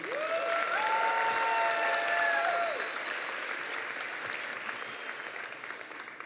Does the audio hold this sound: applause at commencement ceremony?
yes